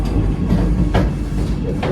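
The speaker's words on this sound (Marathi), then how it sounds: "गाडी थांबलं उतरूचा माका." A Vande Bharat express on the Konkan Railway pulls into Udupi station with a loud, continuous rumble and faint wheel clatter heard close, from on board.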